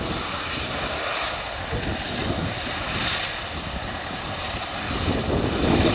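Red Arrows display jets passing overhead at an air show, a steady broad roar that holds throughout and swells louder toward the end.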